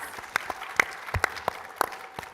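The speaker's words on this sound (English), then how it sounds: "give him a round of applause" Sparse audience clapping at a true crime convention panel, quiet and scattered, with a handful of distinct sharp claps standing out over a faint background.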